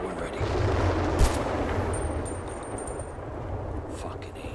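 Gunfire and a rumbling blast in the war shooter Battlefield: Bad Company 2, with one sharp report standing out over a steady low battlefield roar.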